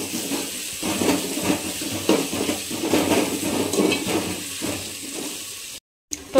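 A spoon stirs basmati rice ingredients with turmeric and ginger paste in a pot, making continuous close scraping and wet clattering, with a brief silent gap just before the end.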